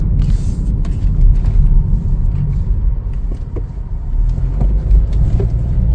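A 2025 Chevrolet Trailblazer FWD LT driving at full speed on a street, with a steady, loud engine and road rumble heard from inside the cabin and no talking.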